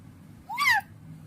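A voice imitates a cat, giving one short rising-then-falling meow, close and clear over a quiet background.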